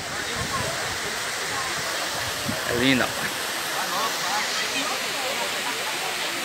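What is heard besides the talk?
waterfall at Poço de Deus, Chapada Diamantina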